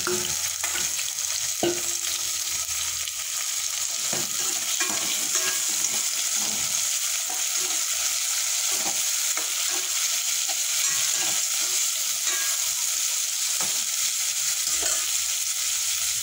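Onion and tomato sauté in a pan with a constant crackling sizzle, punctuated by scattered scrapes and taps of a utensil stirring against the pan, close and steady throughout, with no talking.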